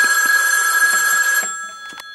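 A telephone rings with a bright electronic bell in a Playmobil scene, one sustained ring that cuts off, followed by a few faint clicks.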